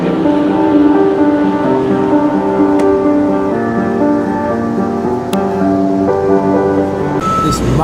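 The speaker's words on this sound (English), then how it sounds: "This monster coal truck is going to dump this stuff in the crusher" A 240-ton coal haul truck at a Wyoming coal mine backs up with a loud, steady engine drone and tonal reversing beeps, heard up close and alone.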